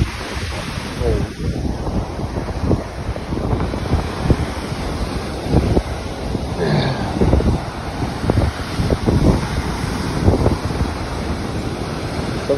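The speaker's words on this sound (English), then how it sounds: "As the tide gets in, some of the waves will be so big they'll just crash over here." Stormy sea on a coast at Porthleven, with waves crashing repeatedly in rolling surges while heavy wind buffets the microphone throughout.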